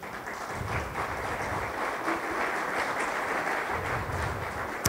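A church congregation claps in praise during a Spanish-language worship service, steady continuous applause at moderate distance for a few seconds with no speech.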